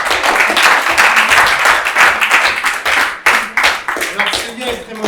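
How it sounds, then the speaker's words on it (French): A municipal council audience applauding Célia, dense sustained clapping from many hands filling the room at close range, with a few stronger individual claps near the end. "Merci Célia, on peut encore vous applaudir."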